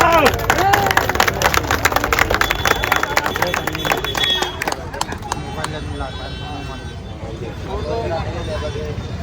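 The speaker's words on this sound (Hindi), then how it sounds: "ताली तो बजाओ, ताली बजाओ।" A crowd claps together at an International Labour Day celebration held by a district legal services authority in Udhampur. The clapping is dense and rapid at first, then thins out. People talk over it and in the background.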